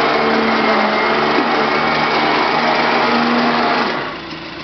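A 12V electric winch with a wireless remote pulls a vehicle, its motor giving a loud, steady high whir throughout that fades off at the very end.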